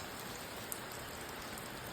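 Steady rain falls over a vegetable garden planted with moringa and herbs, an even hiss of drops with no voices and one small tap partway through.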